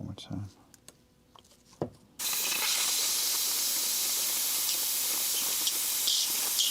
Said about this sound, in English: We did some airbrushing tonight